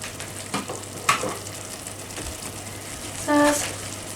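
Sauce simmering in a pan gives off a faint, steady low sizzle, with a couple of soft clinks and a brief brighter hiss near the end.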